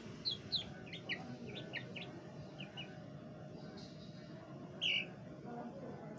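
Thin, high peeping squawks from young chickens on a poultry farm come in short bursts over a low background rumble, with one sharper cry near the end.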